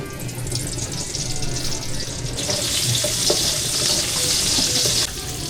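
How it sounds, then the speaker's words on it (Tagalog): Cooking oil heats in a pan with a steady sizzle and scattered clinks. The hiss grows louder about halfway through and then cuts back near the end. "Ako po ay maglalagay na rin po ng mantika."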